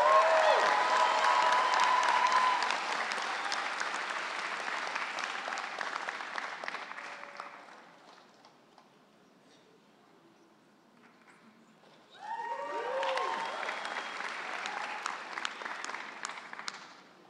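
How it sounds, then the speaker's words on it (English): Audience applause at a university undergraduate commencement ceremony, a dense loud clapping that fades to near quiet midway, then a fresh burst of clapping returns strongly near the end. "Let's give her a round of applause."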